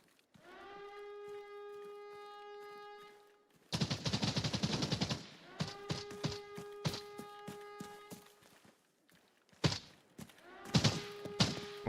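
Rapid machine gun bursts and single shots ring out in a video game shootout, with long sustained tones, quiet gaps between them and scattered thumps and footsteps, all fairly faint.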